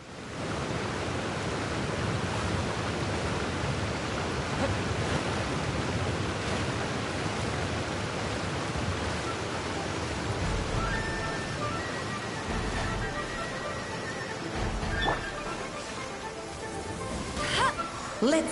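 Steady rain hisses in Genshin Impact, a dense even wash of falling water holding for most of the stretch before a few sharper game sounds near the end.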